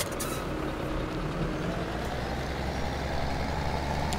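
A farm vehicle in Farming Simulator 17 drives off with a loud, steady engine rumble and broadband road noise, heard alone without any voices.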